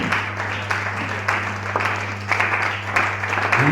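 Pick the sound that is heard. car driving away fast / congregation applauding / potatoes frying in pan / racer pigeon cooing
congregation applauding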